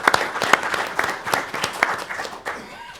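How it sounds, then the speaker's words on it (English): An audience at a monthly community meeting claps for newly introduced members, a short burst of scattered hand claps fading out within a few seconds. "New members, can we give them a hand clap,"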